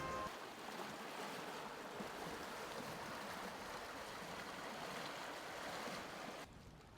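A sailboat moves through waves off Turkey's south coast between Finike and Kekova, heard as a faint, steady rushing wash of water and wind with no voices.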